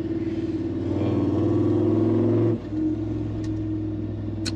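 A Toyota 79 Series fitted with an eight-speed conversion accelerates hard with its wheels spinning, a loud, steady engine roar that drops off abruptly partway through, followed by a quieter idle rumble.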